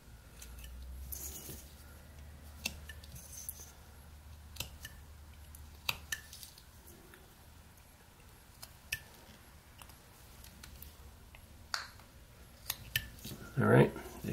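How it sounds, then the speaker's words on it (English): A knife whittles wood while carving a 28mm knight miniature, trimming at the pointed front of the feet; quiet, irregular scraping and clicking cuts sit close over a low background hum, with a sharper burst of cutting near the end. "So we're just going to take out some wood."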